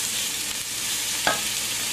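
Keftedes sizzle steadily in a pan of butter and olive oil, a constant broadband hiss with one brief scrape or clink partway through and no talking.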